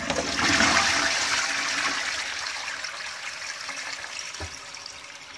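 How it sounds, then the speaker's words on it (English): A self-cleaning ventilated toilet flushes close by with a strong rushing gush of water that slowly tapers into a steady trickle as the bowl refills, one faint knock near the end. "we are flushing the toilet"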